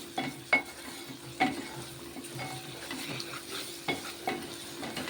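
Ginger garlic paste fries in oil with onions for a raw prawn curry, a soft continuous sizzle with repeated sharp spoon taps and scrapes against the pan, close up and without talk.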